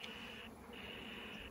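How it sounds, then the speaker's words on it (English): Faint, steady insect buzzing from bees gathered at a last patch of water near Barker Dam in Joshua Tree, a thin drone that briefly dips then resumes. "It's bees. Dozens and dozens of bees."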